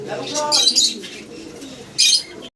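Large pigeons, including Indian black dauka, coo close by in a loft, with several throaty coos and bird calls, while a person talks among them.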